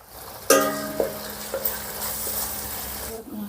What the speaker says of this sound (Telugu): ఈ అల్లం వెల్లుల్లి పేస్ట్ని పచ్చివాసన పోయేంత వరకు ఒక 2 నిమిషాలు ఫ్రై చేసుకుందాం